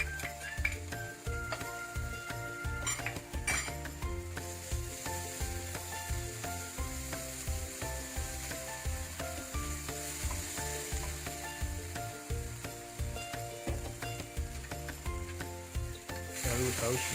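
Stir-frying in a wok after soy milk is poured over fragrant aromatics for Hakka stuffed tofu puffs, giving a steady close sizzle and frying hiss with scraping and clinking of the spatula throughout, no talking.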